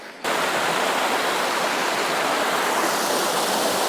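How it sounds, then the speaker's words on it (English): A mountain ghyll in the Lake District tumbles over a few small waterfalls on a hot summer day, its steady, close rushing wash filling the air with no voices. "crossing the stream, crossing the Ghyll. Got to get the names right. A few little waterfalls. Not very spectacular, but it sounds good."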